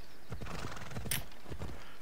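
A horse in Assassin's Creed Odyssey clip-clops with quick, steady hoofbeats at close range, and a brief sharp whinny cuts in midway.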